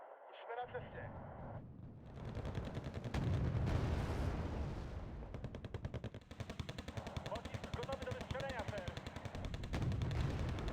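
Gunfire and artillery in the real-time strategy game Wargame: Red Dragon, a mechanized battle with dense rapid machine-gun bursts and heavy booming impacts rolling continuously throughout.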